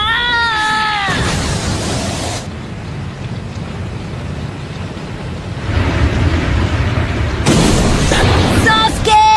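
A fire style dragon flame jutsu erupting in a Naruto anime battle, a loud sustained roaring blast with heavy rumble that surges, eases, then swells again, with a voice calling out at the start.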